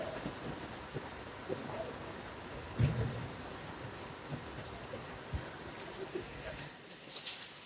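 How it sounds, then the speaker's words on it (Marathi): Soft, steady hiss of rain falling outside, faint and continuous with occasional louder patters, a low voice speaking now and then underneath. "तर बाहेर पाऊस चालू आहे"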